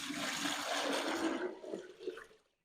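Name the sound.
water being poured into a container for broiler chickens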